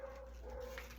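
Dogs bark and whimper indoors at a squirrel outside, a short steady burst of excited canine noise against a constant background hum.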